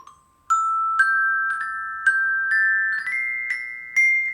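Mallets strike a pitched metal percussion instrument in a steady walking rhythm, about eight ringing notes that step slowly upward, clear and close.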